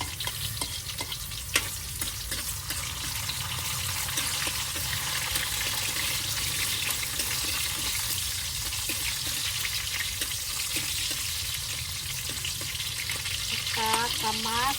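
Garlic and onion fry steadily in a pan, a continuous even sizzle with occasional stirring clicks throughout, close and fairly loud, with no talk.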